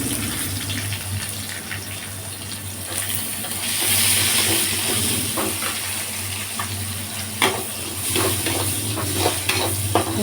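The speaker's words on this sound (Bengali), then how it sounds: "এবার আমি দিয়ে দেবো পেঁয়াজ কুচি।" Chopped onions dropped into hot oil in a pan for tawa pulao, setting off a loud, steady sizzle with a rushing burst as they hit, followed by scattered stirring clicks, close by and without speech.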